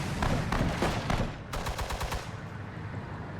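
Rapid bursts of machine gun fire in the World War II strategy game Sudden Strike 4, loud and dense with overlapping rattling volleys and brief gaps between strings of shots.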